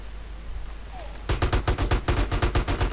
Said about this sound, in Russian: А, там какой-то псих стреляет.